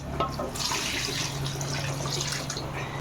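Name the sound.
pouring tamarind water into pot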